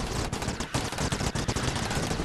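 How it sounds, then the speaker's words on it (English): Bomb explosions from a moon-themed multiplayer video game, heard as a dense, loud barrage of rapid blasts and crackling booms packed continuously through the whole stretch with no talk over it. "I bombed myself by going into my indiscriminate explosion"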